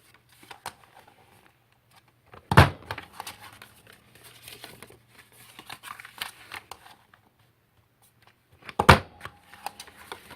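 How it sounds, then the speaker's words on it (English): Paper for a candy box is creased and folded along score lines, two sharp snapping folds standing out among quieter, intermittent rustles and handling noises up close. "And then you're going to fold and do the same thing on this score line"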